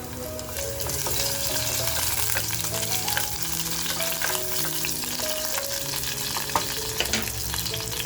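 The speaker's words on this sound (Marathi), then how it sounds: "आपल्याला जी लसूण कापून घेतली ती टाकून घ्यायची आहे तेलामध्ये" Chopped garlic crackles and sizzles steadily in hot oil inside a small pressure cooker. The frying hiss runs continuously at close range, with soft background music playing underneath.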